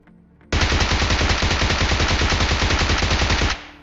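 Sustained automatic gunfire from a PP-Bizon submachine gun in a video game, a rapid unbroken burst lasting about three seconds, loud and close, with no talking over it.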